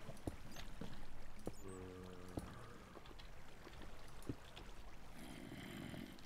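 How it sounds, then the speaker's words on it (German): Water being removed in a Minecraft underground survival game, heard as a flowing, pouring wash with a brief tonal blip partway through and a brighter splash near the end. "Vorsicht, ich baue das Wasser ab"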